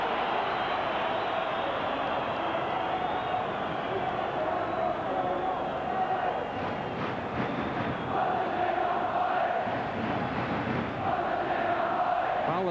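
Football crowd at a Genoa v Sampdoria match makes a steady, distant roar of voices and chanting that carries throughout, with a commentator's voice talking over it.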